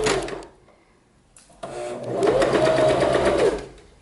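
A sewing machine runs a straight-stitch hem on special-occasion fabric, whirring in a short burst, pausing for about a second, then buzzing steadily again before slowing to a stop, close and clear.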